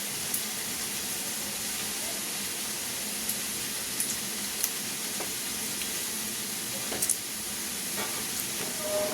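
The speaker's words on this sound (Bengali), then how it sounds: "এখন এটাকে আমি ভালো মতো মাখিয়ে নিচ্ছি।" Raw chicken for a Hyderabadi chicken fry is mixed by hand with half a lemon's juice. Soft, wet stirring and squelching run steadily under a constant hiss, with a few small clicks along the way.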